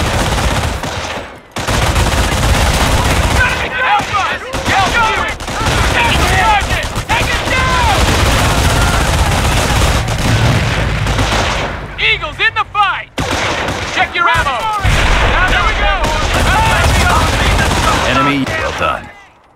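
Video game tutorial combat as squads assault an enemy machine gun team defending a farm: loud, nearly continuous bursts of gunfire and heavy blasts, with speech mixed in over the battle.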